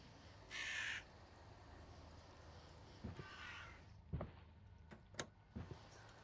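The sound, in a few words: bird cawing noises in a video game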